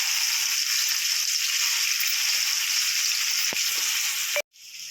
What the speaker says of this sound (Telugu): ఆయిల్ వేడయ్యాక కాకరకాయలు ఇప్పుడు ఆరబెట్టుకున్నాం కదండి, ఆ కాకరకాయలు వేసుకోవాలి ఆయిల్లో